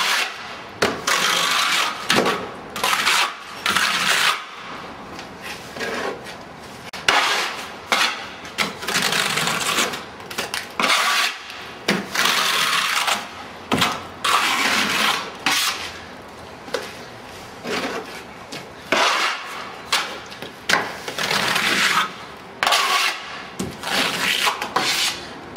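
A trowel presses a tight coat of hardcrete render onto brickwork in repeated rough scraping strokes, each a gritty rasping swipe separated by short pauses, close and steady throughout with no talking.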